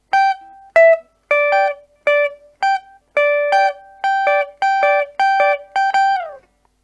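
Electric guitar lick from a song, about a dozen clean plucked notes in a quick rhythmic phrase with bends and slides, close and clear with no voice over it.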